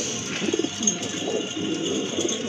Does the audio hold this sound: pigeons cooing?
yes